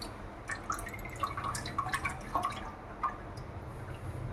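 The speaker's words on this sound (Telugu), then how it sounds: "ఇంక మనం దీని మీద కొంచెం వాటర్ చల్లుకుందామండి, ఎందుకంటే ఆరిపోయింది తడి." Water sprinkled over a damp cloth laid on a hot pan while steaming minapappu kudumu, heard as scattered close drips and light spattering taps over a low steady hiss, with no one talking.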